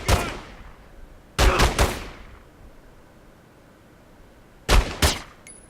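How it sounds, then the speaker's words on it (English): Gunfire in The Godfather II as an enemy is shot in the shoulder: one sharp shot, a tight burst of three quick shots, a pause, then two more cracks, each loud with short echoing decay. "right here you'll see I'm going to hit him, and he actually dropped his weapon"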